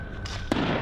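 Fireworks going off outdoors at night: a single sharp burst bangs out midway over a steady hiss of background noise, with no talking.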